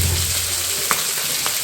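Pork pieces fry in hot oil in a pan for an Assamese-style meat gravy, giving a loud, continuous close-up sizzle with a couple of sharp spits and pops.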